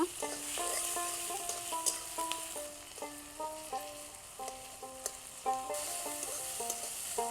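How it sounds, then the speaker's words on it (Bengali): Chopped tomatoes and other ingredients sautéing in a pan for Assamese kusia fish curry, a quiet, continuous close sizzle with occasional stirring scrapes, and a steady musical tune playing over it. "সবগুলোকে এবারে কিছুক্ষণ সময় ধরে কষিয়ে নিব"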